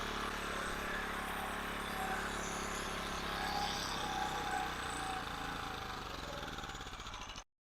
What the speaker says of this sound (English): Just letting the carburetor run dry.